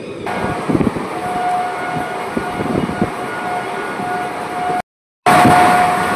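Steady rumble and rattle of the moving Katwa–Azimganj passenger special train between Chowrigacha and Azimganj, continuous throughout, with a brief dropout near the end before the noise resumes.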